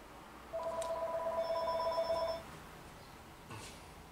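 A telephone rings indoors in a studio with a steady electronic trill lasting about two seconds, clear and fairly close against a quiet room, followed by a faint click.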